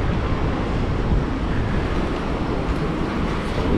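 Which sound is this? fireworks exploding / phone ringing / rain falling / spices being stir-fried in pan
rain falling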